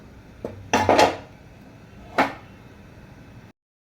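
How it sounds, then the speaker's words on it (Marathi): A metal pressure cooker lid, fitted with only its sealing ring and no whistle, is set down over a pot of steaming kharvas, giving a few short clanks and a scrape, then a final knock in a quiet kitchen. "त्यावर असं एक झाकण ठेवायचं आहे आणि कुकरच्या झाकणाला फक्त रिंग पाहिजे"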